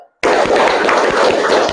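A classroom group of students and teacher clapping hands together in a counted round, a dense, loud burst of claps starting abruptly after a brief silence and continuing steadily to the end.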